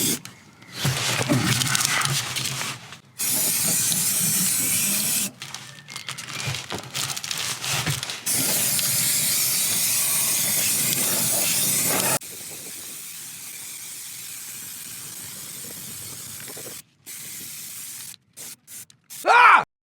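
Aerosol primer sprayed onto the rusty underside of a car in a DIY repair, heard as several long hissing bursts separated by short pauses, then a quieter stretch of faint background noise at the end.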